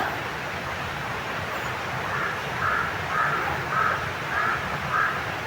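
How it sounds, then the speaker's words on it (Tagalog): Crows caw several times in a steady series over a constant background rumble, each call harsh and fairly distant. "Yung mga uwak na yan, mga spy yan, hindi Commander Supremo."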